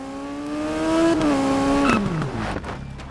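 A racing motorcycle engine from the Isle of Man video game whines loudly and steadily, its pitch rising, then dropping sharply through gear changes before easing off.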